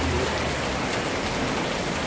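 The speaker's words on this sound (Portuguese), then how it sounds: "olha só a quantidade de pedra caindo aqui" Hailstones fall steadily on a morning in Passo de Minas, a dense, continuous hiss and patter of ice hitting surfaces, loud and unbroken throughout.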